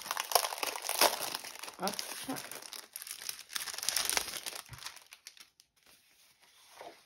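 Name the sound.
opening crinkly packaging of scrapbooking papers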